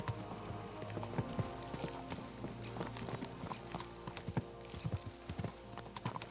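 Horses gallop in the medieval video game Kingdom Come Deliverance 2, their hooves clip-clopping in a quick, steady rhythm at close range with faint creaks of tack and no talk.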